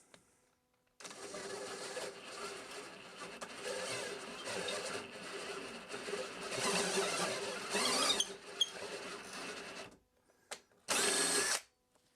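A power drill bit cuts a tenon into an old wooden stool leg, whining steadily for about nine seconds with small surges in pitch and load, then stopping; a short second burst follows after a pause.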